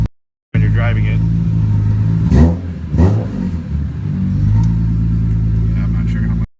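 A BMW E46 M3 fitted with cheap eBay headers, its engine giving a steady loud rumble with two sharp revs rising and falling near the middle, then settling back to a constant idle drone.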